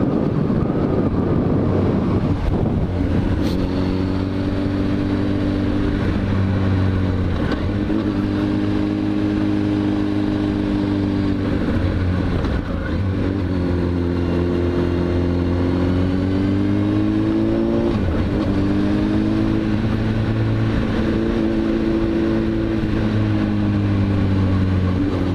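A Honda CBR1000RR HRC motorcycle is ridden on a mountain road in the Sintra hills, its engine droning loud and steady with repeated rises and dips in pitch as it accelerates and shifts, under heavy wind rush and without speech.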